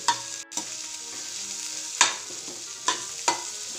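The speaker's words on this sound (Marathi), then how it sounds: "आणि यामध्ये आता हे 2 उकडलेले बटाटे आहेत, ते बारीक किसून घेतलेले आहेत, ते टाकून आता परतून घेऊ" Boiled, finely grated potatoes stirred and sautéed in a pan for aloo methi paratha, with soft scraping stirs and a faint sizzle, a few louder spatula scrapes spaced across the few seconds, no talking.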